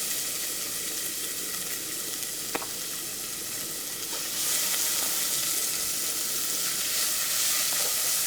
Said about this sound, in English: I'm going to add my minced garlic and small diced onion.